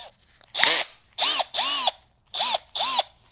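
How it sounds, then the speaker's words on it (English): A power drill is used during an oil change on a Mercedes-AMG car, whirring close by in five short bursts whose pitch rises and falls as it spins up and slows. "I'm gonna use the drill."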